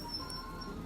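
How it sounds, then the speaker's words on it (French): A pigeon coos close by in one short, soft, low call. The cooing sits over quiet background noise. "J'ai un pigeon sur la tête?"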